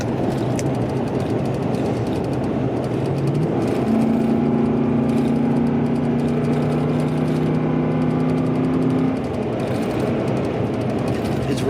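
A 2007-2013 Chevy Silverado pickup's engine idles with a steady, low rumble and a faint hum, no talking, close and even throughout.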